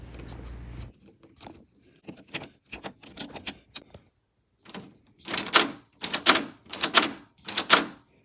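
A screwdriver drives screws while a door lock is installed, a series of short scraping and clicking bursts that grow louder and sharper toward the end, with no talking.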